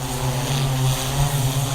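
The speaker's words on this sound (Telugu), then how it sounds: "ఇప్పుడు ఆ డ్రోన్ అయితే ఎక్స్ సిక్స్ ప్లస్" An X6 Plus agricultural spraying drone runs steadily at close range, its motors producing a continuous loud droning hum with a strong low tonal whine and broad rushing noise, no voices present.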